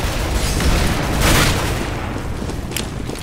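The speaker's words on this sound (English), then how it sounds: "Grenade out!" A grenade explosion in Counter-Strike: Global Offensive: a loud, dense burst of broadband noise that swells to a peak and then slowly tapers away, with no voices.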